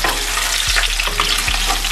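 Fish fries in a pan with a slightly domed centre, giving a loud, continuous sizzle and spatter of hot oil close by, with two faint low knocks, and no voices.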